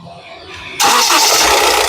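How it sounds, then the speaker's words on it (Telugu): A 2017 Honda WR-V VX car engine fires after a brief crank and settles into a loud, steady near idle, the start coming abruptly partway through. "సింగిల్ లో కార్ స్టార్ట్ అవుతుందండి ఇంజిన్ నాయిస్ చాలా సైలెంట్గా అయితే ఉంది"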